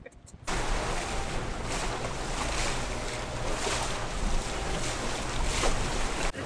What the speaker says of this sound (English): Not too much wind. So we're motoring for now.